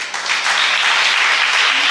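A church congregation bursts into applause, a dense wash of clapping that swells quickly and stays loud for the short stretch.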